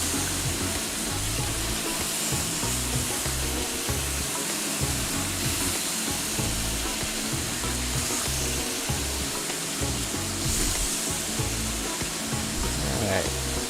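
Beef pieces sear in a hot pan for chow mein, giving a steady loud sizzle with a broad hiss that barely changes, and faint clinks and stirring now and then.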